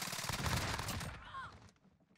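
Close, loud burst of rapid automatic fire from a Fennec submachine gun in the Modern Warfare video game, a dense continuous rattle that cuts off sharply partway through, leaving a fading tail.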